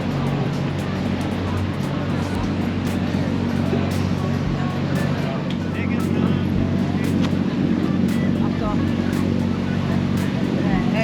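A boat motors past an aircraft carrier with a steady, continuous engine drone and water noise throughout, while people talk over it.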